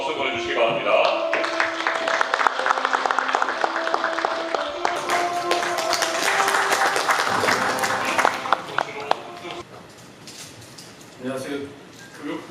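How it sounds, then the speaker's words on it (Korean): Audience applause at a forum held in the National Assembly, dense clapping with tonal sounds mixed in, steady for most of the stretch, then thinning and fading toward the end. "좋은 박수 보내주시기 바랍니다"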